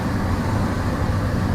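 Mohanagar Express pulling out of Kamalapur railway station in Dhaka on a rainy night, a dense, steady low rumble of the moving train that stays loud and even throughout.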